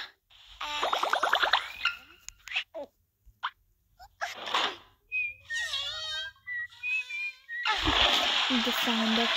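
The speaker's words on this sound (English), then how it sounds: "The sound of poop." A cartoonish poop sound effect from the mobile game My Talking Angela, heard among several short bursts of splashy, boingy and whistling game noises, with a sustained wash of game sound near the end.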